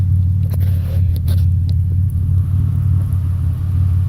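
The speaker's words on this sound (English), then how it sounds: "That is the roads I'm driving up and down" A vehicle drives along country roads on Kojak tires, heard from inside the cab as a loud, steady low engine and road rumble that runs throughout with no talking.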